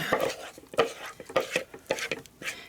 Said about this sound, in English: I'm going to mix the noodles up with this